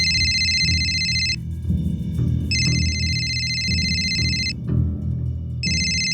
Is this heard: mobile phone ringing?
yes